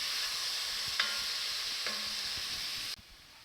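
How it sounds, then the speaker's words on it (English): Chopped vegetables for beef and barley soup cook and brown in a pot with a soft, steady sizzle, broken by a couple of light clinks of a spoon stirring before it suddenly cuts off. "we're going to let this cook in here for about 4 to 5 minutes until the vegetables start to brown a little bit"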